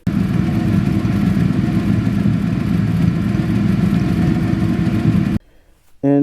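A V8 Ford Ranger pickup's engine runs loud and close in a steady, dense rumble as it starts to overheat, then cuts out abruptly near the end before a brief different sound.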